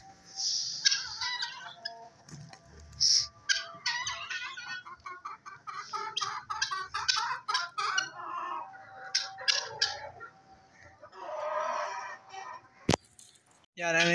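Chickens clucking and a rooster crowing at a pet keeper's coop, a busy mix of close squawks, clucks and calls over about fourteen seconds, with someone speaking at times underneath.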